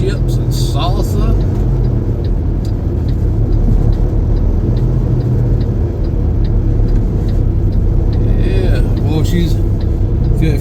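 A loaded semi truck backs into a parking spot, its engine lugging with a heavy low rumble and occasional squeaks throughout, with people talking over it.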